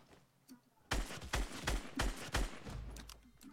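Rapid bursts of video game gunfire from Fortnite come in a steady string of punchy shots during a firefight, fairly loud and close, followed by a lower rumbling tail.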